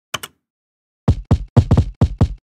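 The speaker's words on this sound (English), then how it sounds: "This is another kick and I'm gonna keep it" Two sharp clicks, then a short run of six or seven punchy kick drum sample hits in Logic Pro, each one deep and quick-decaying, clean and alone with no voices.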